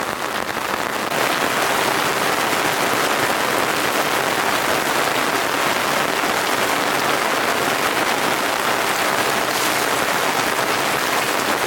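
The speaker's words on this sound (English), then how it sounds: "Very loud here with the rain, but I'm dry." Heavy rain pours down continuously, loud and close, drumming hard on a nearby surface with a steady hiss and no voices.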